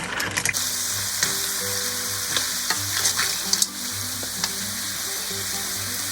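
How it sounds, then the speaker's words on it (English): Garlic basil Manila clams being stir-fried in a pan, a steady loud sizzle with a few spatula scrapes and clinks of shells, close-up and continuous without speech. "Stir a couple of times and then we are done."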